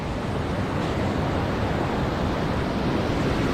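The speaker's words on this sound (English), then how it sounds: "So started raining." Steady rain beginning to fall beside a river, a dense, even hiss of drops and flowing water that holds constant and fairly loud throughout with no voices.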